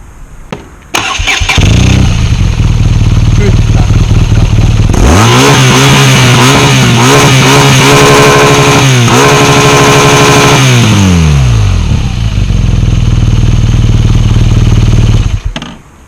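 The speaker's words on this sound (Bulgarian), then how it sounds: "Ауспуха Акрапович. Настроен е да бъде на горната граница, позволена от закона." A BMW R nine T Urban G/S motorcycle with an Akrapovic exhaust idles loudly up close, then revs hard in a series of rising and falling bursts before dropping back to a steady idle and cutting off.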